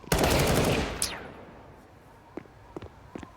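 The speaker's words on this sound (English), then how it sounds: "Quick headshot on Esatag" Gunfire in the Counter-Strike video game: a loud burst of rapid shots lasting about a second, followed by scattered fainter single shots and clicks.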